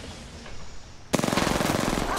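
Apex Legends gunfire: a soft ambient stretch, then a sudden loud burst of rapid automatic shots firing in a fast steady rhythm.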